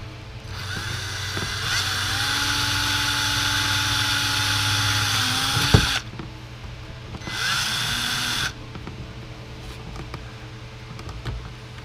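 A power drill whirs steadily for several seconds, pitch sagging under load before stopping, then a second shorter burst of drilling up close, boring holes to fit carbon fiber side skirts on a Camaro.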